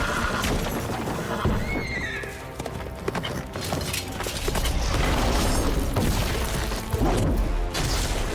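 A horse neighs in The Witcher 3: Blood and Wine, a whinny amid loud clip-clop hoofbeats, clanking game effects and crashes in a busy, continuous mix.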